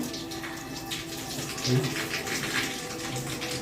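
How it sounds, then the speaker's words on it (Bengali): Small rohu fingerlings are washed under running water, a steady splashing trickle with brief sloshes, while a voice is heard faintly in the background. "আর এখানে মাছ ধোয়া হচ্ছে চারা পোনা এনেছে চারা পোনা ধোয়া হচ্ছে"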